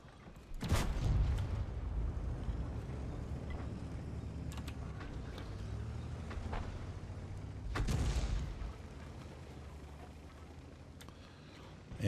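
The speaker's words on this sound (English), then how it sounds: "Here we go with the artillery." Artillery fires in a World of Tanks battle, with an LEFH self-propelled gun among the vehicles. Two heavy booming shots land a few seconds apart over a low mechanical rumble, and the whole clip is fairly quiet.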